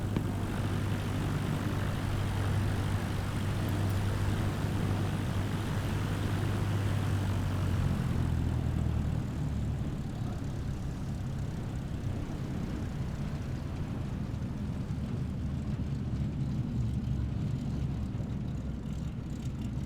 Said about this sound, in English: Cessna Alpha Sierra X-Ray Golf Sierra Alpha cleared for takeoff runway 35 north departure approved.